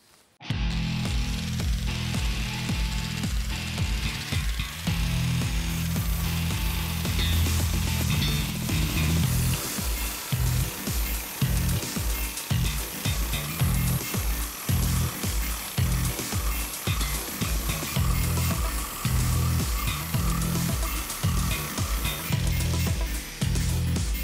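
An electric power tool grinds and polishes a cast iron kazan set on a Vesuvius stove, a loud continuous whine and rasp with rhythmic pulsing strokes throughout, no talking.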